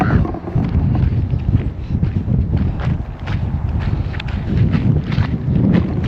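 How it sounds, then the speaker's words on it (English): Strong wind buffets the microphone in a steady, rumbling roar, with faint clattering and movement underneath. "Super windy out here."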